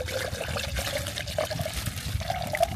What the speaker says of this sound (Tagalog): Refill tayo ng tubig. May gripo dito